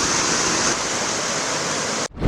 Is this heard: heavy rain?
yes